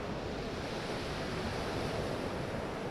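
Ocean waves in the video game Mimicry wash in as a continuous, dense roar of surf, steady and fairly loud throughout with no distinct individual breakers and no talking.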